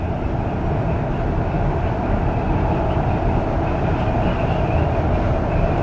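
Aboard an REM light rail train crossing a bridge at speed, a loud, steady rumble and rushing roar fill the cabin continuously, with faint wind noise and no talking.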